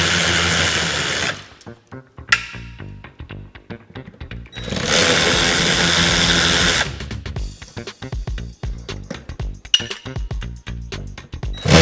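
A power tool spins out the T15 screws holding the chin spoiler on a Corvette C8, with loud sustained whirring bursts separated by short clinks and pauses.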